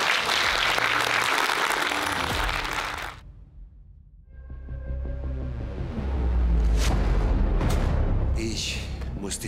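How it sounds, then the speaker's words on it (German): Premiere audience applause for the 2023 film Tell – Jagd auf Ewig, a loud clapping crowd that fades out after about three seconds, giving way to deep booming rumbles and music-like sounds. "Du hast einen ganz grossen Applaus verdient."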